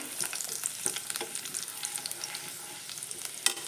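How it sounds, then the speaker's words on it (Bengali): Chopped garlic fries gently in a pan with cardamom, cloves and cinnamon for homemade chilli chicken: a soft, close crackling sizzle broken by scattered clinks of stirring, with no talking. "রসুনগুলো হালকা একটু ভেজে নিয়ে"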